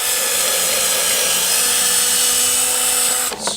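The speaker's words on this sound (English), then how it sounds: "What I'll do is I'll drill a couple of pilot holes in these first" A power drill bores pilot holes into wood for 2-inch screws while building a side table outdoors on a windy day: one steady, close, high-pitched whine runs for about three seconds, then cuts off.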